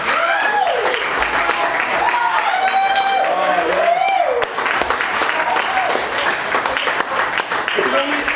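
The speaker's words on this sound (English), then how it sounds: "I can only assume that applause is because I'm done" A comedy club crowd applauds and cheers as a stand-up comedian finishes his set, loud sustained clapping with whoops, and someone speaks over the noise.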